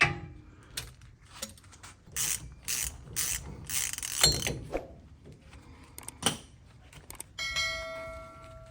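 A socket wrench with a 14mm socket works loose a bolt on the CV axle of a Hummer H1, giving scattered metallic clicks and ratcheting clatters with quiet pauses in between, close and fairly faint.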